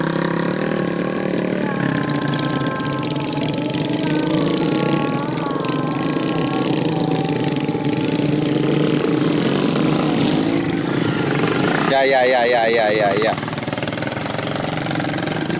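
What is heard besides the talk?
engine of a modified Honda trail motorbike carrying rice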